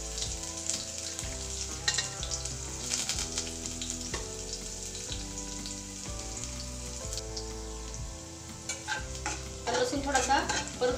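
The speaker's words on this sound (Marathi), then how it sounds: "आता आपण लसूण टाकून घेऊया" Garlic sautéing in hot oil with mustard seeds and curry leaves for poha, a continuous crackling sizzle heard beneath prominent melodic background music throughout.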